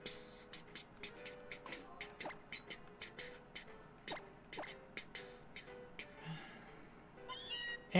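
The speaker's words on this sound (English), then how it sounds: "Shiny Alolan Meowth." Shiny Alolan Meowth crying in a Pokémon video game, a series of short chirpy electronic cat-like calls over steady game music, with a brighter sparkling burst near the end.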